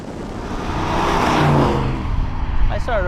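A Camaro IROC-Z engine under hard acceleration, a rising roar that swells and then fades over a couple of seconds, with someone talking over the engine toward the end.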